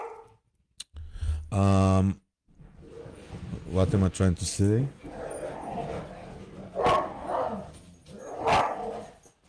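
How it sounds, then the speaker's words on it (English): Several dogs bark and yip excitedly in bursts, loud and close, with whimpering mixed in and a person talking among the barking. "My dogs are going crazy."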